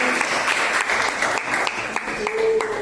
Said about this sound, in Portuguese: aplaude Jesus com bastante alegria